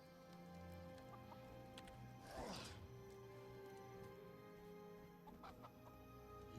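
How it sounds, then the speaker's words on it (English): Chickens cluck in the Guild Wars 2 video game, a brief burst of clucking standing out over a steady background of ambient game sound and music. "Sometimes you just have to get chickens and put them back in their cages"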